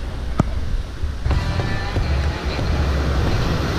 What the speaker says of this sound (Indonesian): Ombaknya coy.